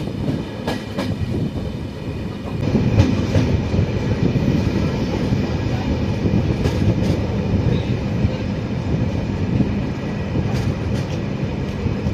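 Jaipur-Chennai Express passenger train running on rails, a steady loud rumble with rhythmic clattering of the wagons heard from inside, continuous and without talk.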